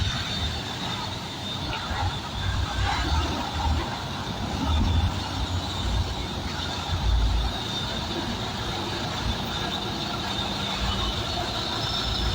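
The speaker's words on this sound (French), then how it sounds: "Vous savez que chez nous, la circulation, même tu es assis dans un snack, un endroit bien, toujours le bruit" Street traffic with trucks and cars gives a constant low rumble and broadband hiss, with passing vehicles swelling and fading in the background for the whole stretch.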